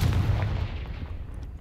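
A fiery Confringo spell blast in Hogwarts Legacy booms low and muffled, a heavy rumbling explosion that rolls on and slowly decays, quiet overall with no voices.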